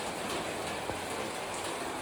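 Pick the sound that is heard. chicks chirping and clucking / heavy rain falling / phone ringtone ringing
heavy rain falling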